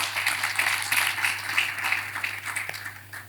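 Conference audience applauding, a steady wash of many hands clapping at moderate volume, sustained and even for a few seconds with a low hum underneath.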